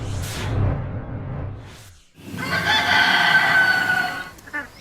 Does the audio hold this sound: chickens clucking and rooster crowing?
yes